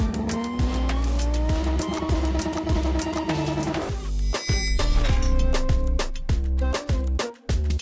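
A straight-six car with a manual gearbox and BBS wheels drives close by, its engine revving loudly with rising pitch and tyre squeal, then a gear change and continued hard revving.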